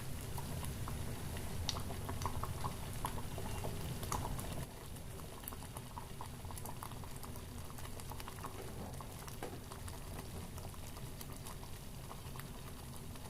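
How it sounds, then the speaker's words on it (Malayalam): Chakka erissery, a jackfruit curry, boils in a pot on a gas stove, a continuous close bubbling and popping that eases slightly partway through, with no talk. "ഇത് നന്നായി തിളച്ചിട്ടുണ്ട്."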